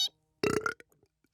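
An animated cartoon character lets out a short, loud, gravelly burp of about a third of a second, close and alone, followed by a few faint trailing sounds.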